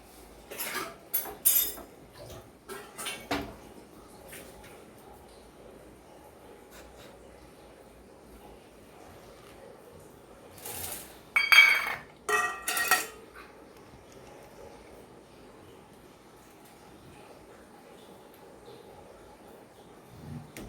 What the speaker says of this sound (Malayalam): പ്ലേറ്റ് ഇടട്ടെ.